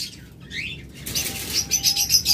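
Red-eyed, locally bred lovebirds at a bird sale flap their wings in a quick, close burst, then give bright, repeated chirps that grow louder near the end.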